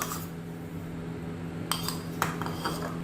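Green chilli paste being stirred into yogurt in a bowl with a metal spoon: a few sharp clinks against the bowl over soft mixing, close by, with a steady background hum and no speech.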